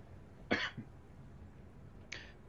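A person coughs twice, close to the microphone: one sharp cough with a small follow-up, then a second cough a moment later, over a quiet background.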